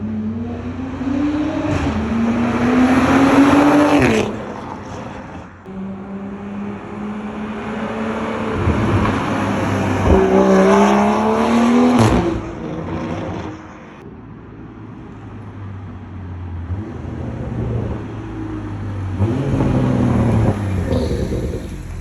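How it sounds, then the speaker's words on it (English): A 2021 Toyota A91 Supra with catalyst downpipe and resonator delete accelerates hard through gears, its exhaust rising in pitch, dropping at shifts and rising again, loud and close, with rumbling lifts between pulls. "what do you guys think of the catalyst downpipe and the whole resonator delete on the Supra?"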